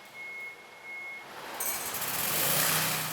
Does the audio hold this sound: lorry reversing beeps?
yes